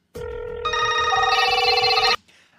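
A telephone bell rings loudly and close up in one sustained electronic trill that brightens partway through, then cuts off abruptly, with no talking.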